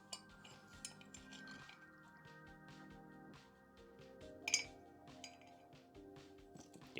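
Spoon clinking and scraping against a cup while scooping out a Japanese clay coffee ball, faint and close, with scattered light taps and one brighter clink.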